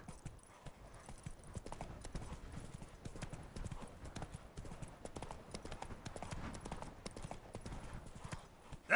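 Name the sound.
horse galloping hooves in a video game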